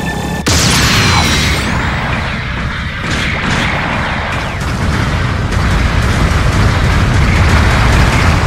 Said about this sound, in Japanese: 砲撃が来るぞ。